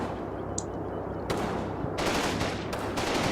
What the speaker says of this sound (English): And it is just an exchange of gunfire at this point.